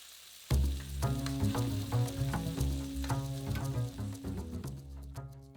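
Guanciale browning in a pan, a dense continuous sizzle that begins abruptly and stays loud and close, with crackling pops and no talking.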